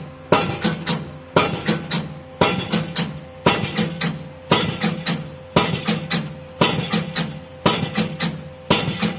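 A hydraulic pile driver hammers piles with heavy metallic pounding at a steady pace, each strike ringing out in quick clattering bursts, loud and continuous, with no voices.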